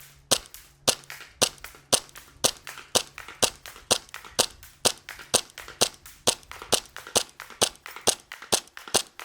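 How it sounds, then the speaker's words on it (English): An airsoft gun fires outdoors in wind, a long, regular string of sharp, close pops, about thirty evenly spaced shots, each crisp and loud against a quiet background. "Okay, that's full auto. 16 rounds a second."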